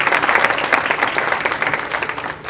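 A large conference audience of several hundred attendees applauds in a dense, steady burst of clapping that fills the room and fades slightly near the end.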